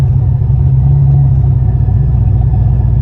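A car cruising on Highway 90 fills the cabin with a loud, steady low rumble of road and engine noise, constant and unbroken throughout.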